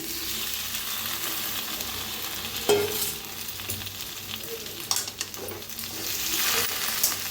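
Okra frying in a garlic masala in a pan, with a steady sizzle and a few louder utensil clanks and scrapes as it is stirred.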